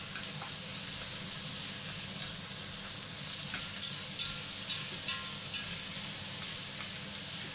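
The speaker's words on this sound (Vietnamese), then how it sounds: "Đó các bạn chiên hai cái mặt nó cho nó nâu vàng nó sẽ thơm." Meat fries in a pan for a German kale dish, a steady broad sizzle with occasional sharp pops and crackles throughout, close and continuous without speech.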